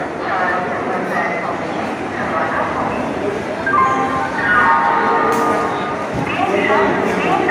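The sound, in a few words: train entering the station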